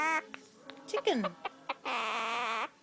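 A quaker parrot imitates a chicken, giving a series of short clucking and squawking calls, then a longer, sustained cackle near the end, all close and fairly loud.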